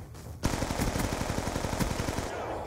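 Rapid pistol gunfire from the Call of Duty Black Ops 2 video game, a fast steady string of loud close shots starting abruptly and continuing without pause.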